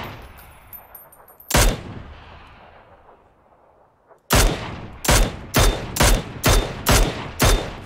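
Gunfire in a multiplayer shooter video game, one loud shot followed by a fading tail, then a rapid series of sharp, evenly spaced shots close by.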